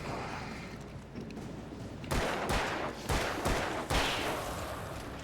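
Revolver gunshots in the Alan Wake video game, five sharp, loud reports spaced about half a second apart over a low, steady game ambience.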